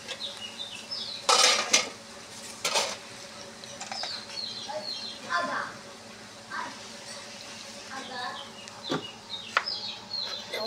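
A metal pot of jackfruit and prawn curry is lifted off the stove with a few sharp clanks of utensils against the pan, amid quiet kitchen clatter and distant chicken clucking.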